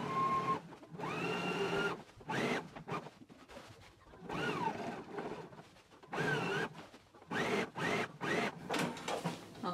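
A sewing machine stitching an anorak hem runs in bursts of fast whirring, starting and stopping repeatedly with short pauses between runs, close and fairly quiet.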